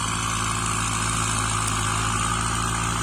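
A Kubota M6040 tractor pushing soil in a rice field in Chom Phra district runs with a loud, steady diesel drone and a regular low throb, close by and continuous, with no voices.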